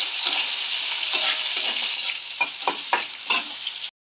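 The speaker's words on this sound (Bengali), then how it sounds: "পেঁয়াজ কুচিটা আমি ভেজে নিচ্ছি" Chopped onion fries in oil with whole cumin, five-spice seeds and green chilli, giving a steady close sizzle broken by several scraping stirs of a spatula.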